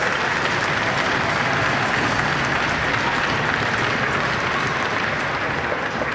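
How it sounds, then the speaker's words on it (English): An audience at a blind hockey tournament gives a loud, sustained round of applause, many hands clapping evenly without a break. "A huge round of applause to all our sponsors and partners"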